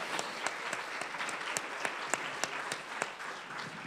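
A festival audience applauds the organizer, a sustained wash of crowd clapping with a few louder individual claps popping out regularly above it.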